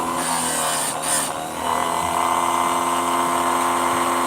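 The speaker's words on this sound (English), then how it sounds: "You can definitely grind different types of chain with it." A chain grinder sharpening saw chain makes a steady, loud mechanical whine with a constant motor hum, a brief dip in the grind near the start, then a continuous harsh buzz without talk.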